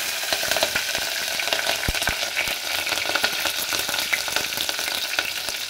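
Mustard seeds and green chili sizzle loudly in hot oil for tempering, a dense continuous crackle and spatter up close with a couple of sharp stirring knocks partway through, no voices.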